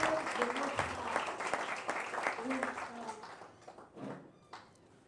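A congregation at a religious conference claps and cheers, with dense applause under a talking voice that gradually thins and fades to scattered claps.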